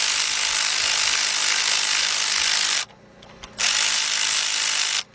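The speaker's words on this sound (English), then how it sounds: "Guys, grab your big bill ratchet." A big ratchet tightening thermostat housing bolts on a 2010 Ford Explorer 4.0: loud, close, continuous rasping clicks, broken by one short pause before the clicking resumes.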